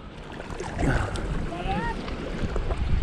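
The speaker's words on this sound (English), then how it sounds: "We're only gonna be here for a little bit longer because this wind's a little nuts." Strong wind rushes across a reservoir at Ruedi in a steady, broad roar buffeting the microphone, with voices talking faintly underneath.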